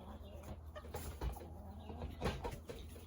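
Soft, scattered clucking from chickens nearby, faint and intermittent over a low, steady background noise.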